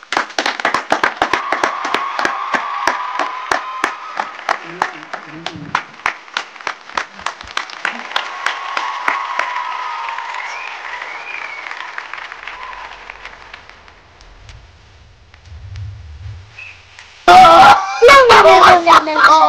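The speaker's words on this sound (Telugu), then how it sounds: "చప్పట్లు." An audience at a Sankranti celebration claps as a director arrives on stage: dense, rapid applause that gradually thins and fades, followed by a few sharp, loud bursts near the end.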